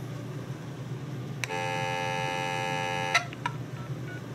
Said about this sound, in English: And this ringtone, by the way, is actually custom.